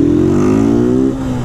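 A Titan 160 motorcycle engine fitted with a new filter revs loudly and close, its pitch climbing steadily before dropping off at the end.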